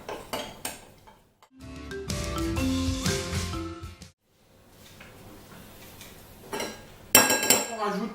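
A spoon stirs cornstarch into broth inside a Cookeo multicooker pot, giving repeated metallic scrapes and clinks against the pot, with a short pause midway before a louder burst of clatter near the end.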